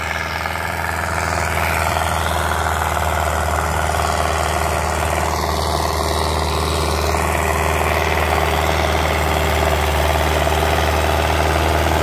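A Sonalika DI 55 DLX tractor, fitted with a harrow, runs at a steady idle, giving a constant, close diesel chug with a deep low hum and faint vibration and no talking.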